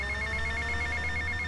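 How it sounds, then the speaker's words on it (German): A telephone rings steadily in GTA Vice City, with a repeating electronic trill running through the whole stretch over a low game background hum, and nobody talks. "Das Telefon."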